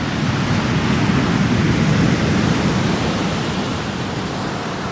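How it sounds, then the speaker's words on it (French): Indian Ocean waves break on a sandy beach near sunset, a continuous loud roar of surf and churning water with no pauses and no voices. "Allez, on vous montre quelques belles vagues."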